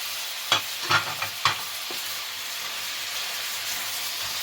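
Mushrooms and spices fry in a pot under a steady close sizzle, with a few sharp scraping knocks of stirring near the start before the hiss continues alone.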